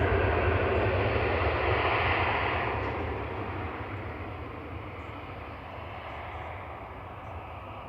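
A TUI airliner roars past at Manchester Airport, a loud broadband jet rumble that is strongest at first and then slowly fades as it moves away.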